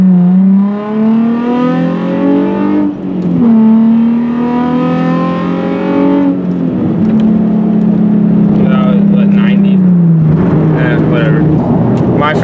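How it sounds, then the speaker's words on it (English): A car on skinny spare tires does a burnout at a stoplight, its engine revving and droning loudly as the tires spin, with speech over the noise. "There, I was not expecting to just do a fat burnout."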